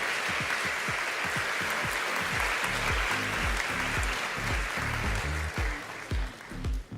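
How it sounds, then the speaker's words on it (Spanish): Audience applause for Nicolás Luco at a Congreso Futuro ocean panel, a dense sustained wash of clapping from a crowd that tapers off near the end, with some low rumbling thumps underneath. "tenemos un aplauso para el señor Luco, si pueden"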